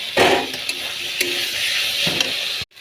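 Potatoes fry in a spice paste of tomato and green chilli in a pan, a loud close sizzle with a few stirring scrapes, ending in abrupt silence.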